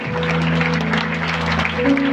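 Church youth service audience applauding together, a dense steady clatter of clapping filling the room with sustained tones from instruments or a PA underneath.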